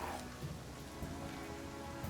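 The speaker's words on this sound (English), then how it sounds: "we'll be fighting in the rain at night" Steady rain falls at night in the video game Pathfinder: Kingmaker, a dense, even hiss of raindrops on a surface that fills the whole short stretch with no talking.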